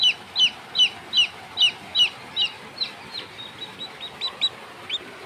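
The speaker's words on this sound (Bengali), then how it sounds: "ব্রয়লার মুরগির বাচ্চা।" Chicks of a broiler chicken breed, one of them with four legs, give repeated high cheeping peeps in a steady series, loud and near at first, then softer, over a low background hum.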